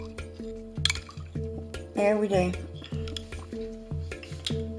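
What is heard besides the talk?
stirring bouillon cube into hot water for gravy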